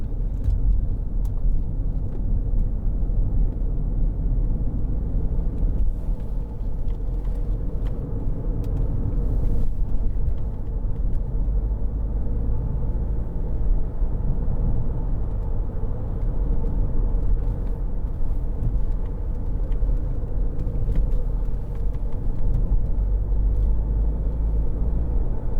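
A 2012 BMW 5 Series 520d SE with a 2.0 diesel cruises along a road, heard from inside as a steady low rumble of engine and tyre noise, unbroken and without talk.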